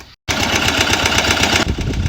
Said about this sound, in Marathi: हे बघा, हे ते किर्लोस्कर इंजिन आहे मित्रांनो